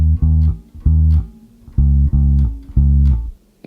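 Bass guitar playing the bass line with short, separated notes rather than sustained ones, a punchy repeating rhythmic pattern of plucked tones, loud and close with no voices.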